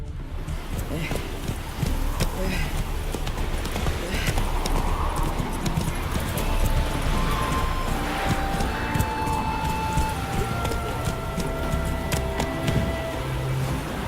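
The horse Roach gallops across open ground in The Witcher 3, with steady, rapid clip-clop hoofbeats held close and loud throughout over a constant outdoor game ambience, and no voices.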